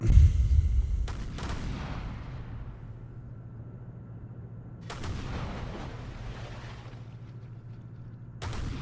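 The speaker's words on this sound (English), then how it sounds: "How many guns do I still have firing?" Ship guns fire in the naval building game ShipCrafter as a listing warship battles, sounding as three sharp booms spaced several seconds apart, each trailing into a long rumbling decay over a low steady drone.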